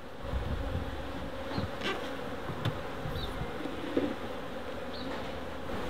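Honeybees buzz around an open hive kept in an old fridge during a bush inspection, a dense, continuous drone with occasional individual bees passing close by, no talking.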